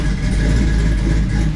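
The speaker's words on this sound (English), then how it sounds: "We won't rev it up now, we'll just let it idle." An LS V8 with an aggressive camshaft idles steadily up close, a loud, deep, lumpy rumble with an uneven choppy lope throughout and no voices over it.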